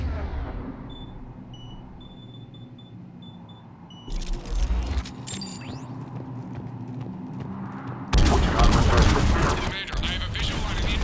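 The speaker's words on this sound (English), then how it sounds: "The cannon fire is clearing the way." Heavy cannon fire in the Mass Effect 3 video game booms in bursts over a steady engine-like rumble, growing louder and denser toward the end with sharp crackling impacts.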